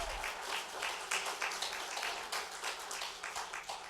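Applause from a church congregation, a steady patter of many hands clapping at moderate loudness and fading unevenly across the few seconds, with no clear speech over it.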